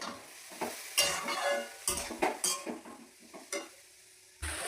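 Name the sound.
frying ginger, cumin, mustard and turmeric paste in a pan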